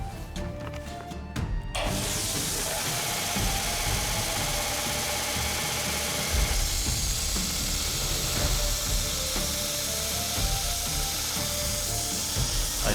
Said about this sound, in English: Now let's get to grinding.